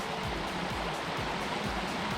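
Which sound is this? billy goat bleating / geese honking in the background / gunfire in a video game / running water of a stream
running water of a stream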